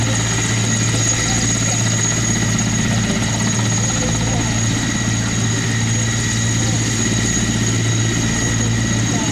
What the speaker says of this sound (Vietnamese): Tiếng động cánh quạt của chúng rầm rộ như cả một đoàn tàu hỏa.